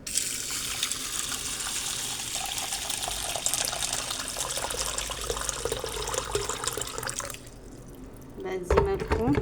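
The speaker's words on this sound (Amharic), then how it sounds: "ፍቅቅ እናደርገዋለን በንጹህ ውሃ ማለት ነው።" Clean water runs and splashes steadily while something is rinsed before being boiled in a pot, a continuous gushing stream that drops briefly before a louder burst near the end.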